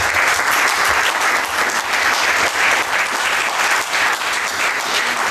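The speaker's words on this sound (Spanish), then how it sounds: "Por fin, aplausos después de Luis Soler." Loud, sustained audience applause fills a conference panel hall after a speaker's closing remarks, a dense steady wash of many hands clapping without pause.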